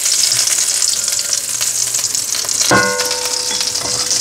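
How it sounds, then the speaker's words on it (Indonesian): Fish frying in reused oil in a home kitchen, a steady dense sizzle and crackle throughout, with a brief clink of a utensil partway through. "Sekarang saya mau goreng"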